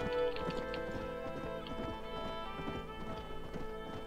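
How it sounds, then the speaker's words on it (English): Mountain horse hooves clip-clopping over rough ground in the Western video game Red Dead Redemption, a steady close rhythm of hoof strikes running throughout with game music beneath. "This is one tough mountain horse."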